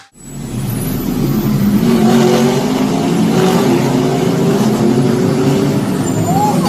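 A race car engine roars loud and steady for several seconds during a motorsport race, with a thick engine drone, a brief high whine near the end and no quiet gaps.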